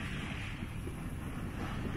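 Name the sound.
light wind at sea on a sailboat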